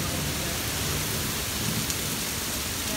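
A thunderstorm roars with heavy, steady rain and a low rumble of thunder, a dense wash of sound that is loud and continuous throughout.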